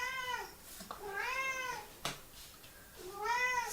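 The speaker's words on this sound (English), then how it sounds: "Excuse my cat." A house cat meows three times, each call a clear rising-then-falling wail at close range, with a brief sharp knock between the second and third meows and no talk.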